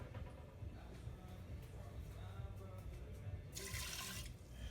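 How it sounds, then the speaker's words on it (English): A cup and a half of water is poured into a pot for cooking rice, a soft continuous splashing under kitchen background noise that ends in a brief brighter gush. "Got a cup and a half of water."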